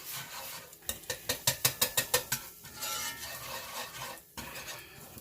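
Fresh chopped garlic cooking in a pan for linguine with pumpkin sauce: a quick run of about eight rhythmic scraping stirs, then a softer sizzling rustle with a few lighter strokes, close and fairly quiet.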